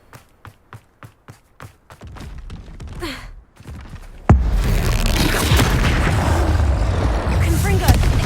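Confringo blasting spell exploding in Hogwarts Legacy: a sudden loud blast follows rhythmic footsteps and a brief whoosh, then a dense rumbling clamour of combat with a voice calling out.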